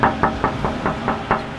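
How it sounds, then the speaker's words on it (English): Seven even, firm knocks strike a sneaker store's half-closed door in a steady rhythm, each a close, hollow thud with a faint engine-like hum underneath. "knock, knock."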